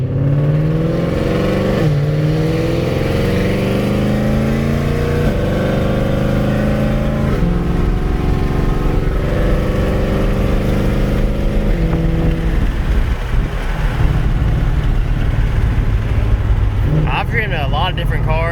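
A 2020 Ford Shelby GT500 with a ported supercharger and new pulley revs hard on a dyno, its loud engine note rising and falling through several pulls over a steady mechanical drone.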